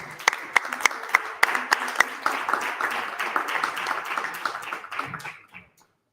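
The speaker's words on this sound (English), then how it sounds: "let's give them a warm round of applause as they come on stage" Audience applause rises as presenters walk on stage at the Africa Basque Challenge 2023 final event. A few sharp individual claps stand out over the steady clapping before it thins and dies away near the end.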